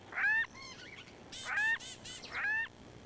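Jackals give three separate bursts of high, wavering yelps, each lasting about a third of a second, fairly clear against quiet surroundings.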